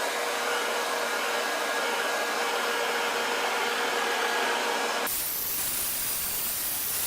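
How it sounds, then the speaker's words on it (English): An old hairdryer blowing on paint, giving a steady loud whooshing roar with a faint whine that abruptly changes pitch and tone near the end as the airflow shifts. "I'm going to hit it with a hairdryer a little bit."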